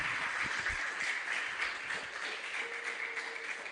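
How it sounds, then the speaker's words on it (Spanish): Scattered, moderate clapping from a small church congregation, fairly faint and uneven, with a faint tone sustained near the end. "Denle un aplauso, dése con ánimo"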